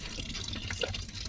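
Water running from the tap of a storage tank, a soft continuous trickle and splash with a few drips, heard close and fairly quiet, without speech.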